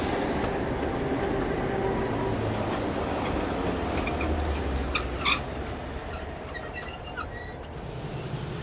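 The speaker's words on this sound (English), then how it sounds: "DG 772 and DJ 1209 depart Dunedin Railway Station to reposition rolling stock to Middlemarch" Two diesel locomotives, DG 772 and DJ 1209, pulling away from Dunedin Railway Station with rolling stock, a low steady rumble and rolling wheel noise, with a couple of brief clanks partway through.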